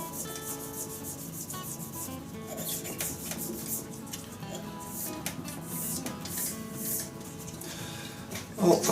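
A cast resin shaving brush handle is sanded by hand, a faint, steady rubbing and scraping texture with irregular strokes and a slightly louder knock near the end.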